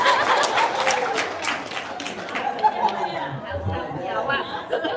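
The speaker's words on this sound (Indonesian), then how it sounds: "Tepuk tangan dong." An audience at a talk gives brief scattered applause mixed with chatter and light laughter, the clapping fading as voices carry on close by.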